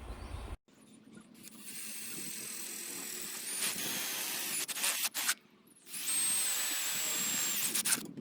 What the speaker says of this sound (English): next job is drill those holes for the mounting